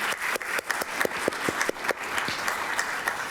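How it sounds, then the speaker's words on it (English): A crowd applauds at a summit on ending homelessness, dense continuous clapping with some sharper individual claps standing out near the front. "if we could all give her a big round of applause"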